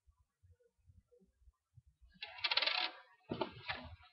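A metal collector's coin from a Pokémon Zapdos collector's box is handled, giving two bright clinks close by after a few soft handling bumps, in a quiet setting without speech.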